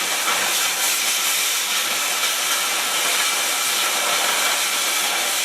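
Oxy-fuel cutting torch slicing a brace out of 3/8 steel plate, a loud, steady roaring hiss that holds unchanged throughout with no voices.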